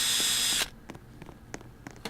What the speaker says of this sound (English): Sounds like a drill.